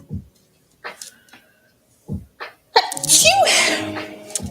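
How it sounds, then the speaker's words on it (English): A single loud, close sneeze bursts out after a few quiet, brief vocal sounds and breaths, then trails off into a short murmur. "I need to sneeze."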